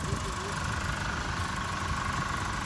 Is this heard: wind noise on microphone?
no